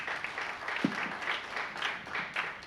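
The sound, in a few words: audience applause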